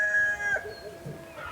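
A rooster crows once at close range in a rural farmyard, a clear harmonic call lasting about half a second before fading into quiet outdoor background.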